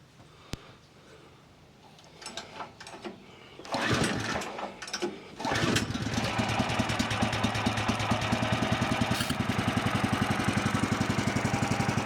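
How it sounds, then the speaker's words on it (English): A portable sawmill's small engine is cranked with a few sputtering pulls, catches, and then runs in a loud, steady, rhythmic chug close by. "I haven't started the mill now in a few weeks, so let's see how well it starts"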